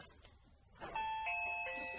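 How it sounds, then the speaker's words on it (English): A video doorbell sounds a quiet electronic chime of a few clear, sustained tones, one after another, following a moment of soft room noise. "including a rather snazzy video doorbell"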